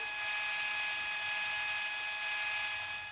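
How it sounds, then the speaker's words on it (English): Belt grinder running a Scotch-Brite belt to finish a knife blade before heat treat, a steady high-pitched whine with a fine abrasive hiss, constant and fairly quiet throughout. "now it's time to go ahead and do the Scotch-Brite belt"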